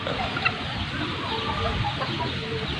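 Chicks peep and chirp in short high notes outdoors among chickens, with faint clucks under a steady background hiss, fairly close but not loud.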